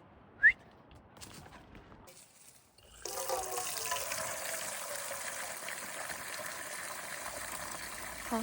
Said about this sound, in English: there's a water tap that we can just help ourselves to water for doggies